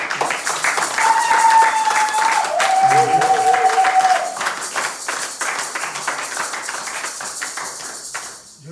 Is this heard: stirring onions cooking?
no